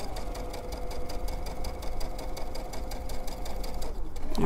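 A sewing machine runs steadily while stitching minky fabric pillow pieces, its needle pulsing in a fast even rhythm, close and continuous.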